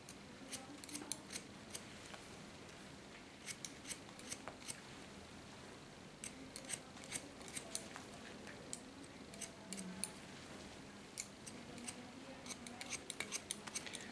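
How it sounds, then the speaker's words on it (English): Scissors snip through hair to cut a blunt line in a short haircut, with repeated crisp cuts arriving in clusters and separated by pauses, close and fairly quiet over a faint background hiss. "And cut it in a blunt line."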